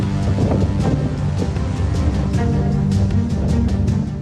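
Strong, steady winds of Cyclone Biparjoy in Gujarat roar and buffet the microphone continuously, with low rumbling gusts and no voices.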